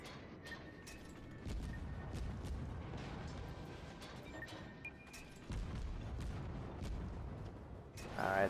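Torpedoes strike a ship in the naval battle game World of Warships, heavy low booms and rumbling explosions rolling under constant battle noise, loud and close, with sharper blasts surging near the end.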